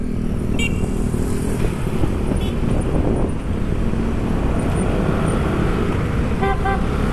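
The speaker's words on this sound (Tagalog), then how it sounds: "Kaya busina siya ng busina" Heavy road traffic rumbles continuously while car horns toot in short bursts, a couple near the start and a quick double honk near the end.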